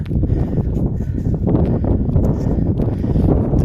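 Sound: strong wind blowing on microphone

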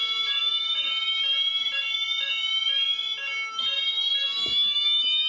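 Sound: fire alarm horn sounding during system test

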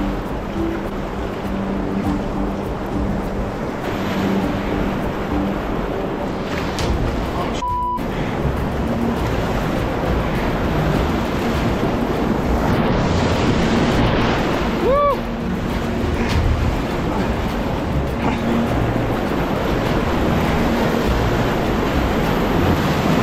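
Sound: whitewater river rapid in spring flood

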